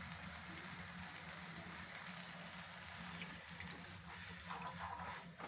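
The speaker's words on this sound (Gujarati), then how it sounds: "હવે આપણે એની અંદર થોડું પાણી નાખીશું." Water is poured into a pan of chole gravy, a faint, even splashing hiss that holds steady for several seconds without speech.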